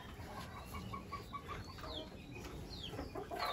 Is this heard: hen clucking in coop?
yes